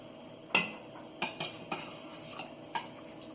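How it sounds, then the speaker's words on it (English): Drained meat pieces drop into a cooking pan for a curry, giving several separate sharp clinks and thuds against metal, spaced irregularly with quiet between them. "Now I'm just gonna drain this meat and drop it in my pan"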